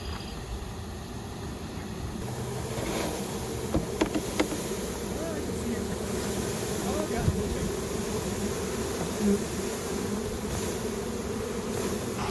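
Honey bees hum steadily around a hive being set up, a continuous close buzzing with a few brief clicks and knocks over it.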